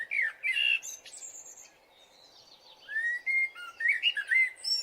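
A person imitates a bird's chirping call, giving clear high whistled chirps and trills in two bursts separated by a short quiet gap, close and fairly loud.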